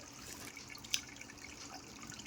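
Water from a natural spring at the Anuvavi Subramanya Swamy hill temple trickles steadily and faintly, with one sharp drip standing out.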